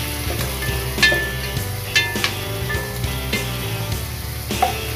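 Ingredients are sautéed in a pan for Filipino paksiw na pata (pork leg): a loud, continuous sizzle and frying hiss, punctuated by a few sharp stirring clinks, with no talking.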